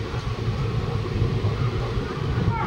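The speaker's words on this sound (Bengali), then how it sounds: "আমাদের ট্রেনটা এখন সঠিক টাইমে চলছে" The Black Diamond Express passenger train runs from Howrah toward Dhanbad, a steady low rumble and rattle from inside the carriage throughout.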